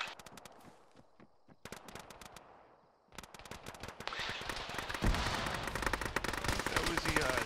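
Medium machine gun fire in Arma with ShackTac, rapid bursts of close shots that start sparse and swell into a loud, sustained stream of gunfire layered with other weapons, with some talk in the background.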